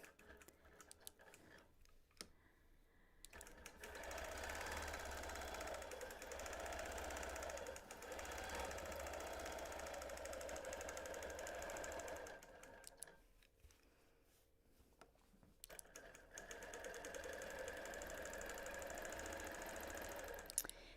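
A sewing machine stitching a long basting stitch during a live quilting session, running in a steady rapid rhythm for several seconds, pausing briefly, then starting again, close and moderately loud with no talking.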